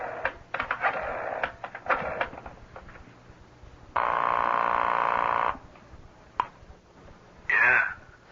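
A telephone being dialed in a 1970s radio mystery drama, with a run of short mechanical clicks and ticks followed by a sustained steady ring tone, then another brief buzzing burst, fairly close and clear.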